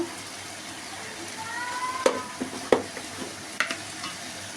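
Liver frying in a pan with cumin, chilli, green chilli paste, salt and turmeric, a quiet steady sizzle punctuated by several sharp spatula scrapes and clinks against the pan.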